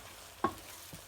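Blended tomato is sautéed in a pan for a vaal and potato bhaji. A single soft scrape of stirring is followed by a faint second one, over a gentle sizzle.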